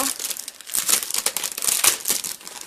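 Plastic foil wrapping on a LEGO Ninjago sticker album crinkles and crackles steadily as it is torn open, close and fairly loud, a busy stream of papery rustles with no talking.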